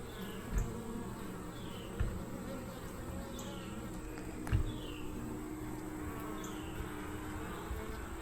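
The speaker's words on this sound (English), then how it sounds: "I've seen lots of bees" Honey bees buzzing around an open hive during an inspection, a continuous moderate drone with individual bees flying past close by and occasional soft knocks from handling frames.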